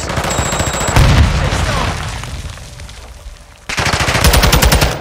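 Rapid automatic gunfire in the video game Call of Duty Modern Warfare 2 during a team deathmatch: loud, dense bursts that drop away briefly and then resume at full intensity.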